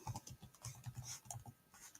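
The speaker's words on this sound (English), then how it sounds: "I'm just typing in what I need." Rapid clicking of a computer keyboard as search words are typed into design software, an uneven burst of close, light keystrokes with no talk.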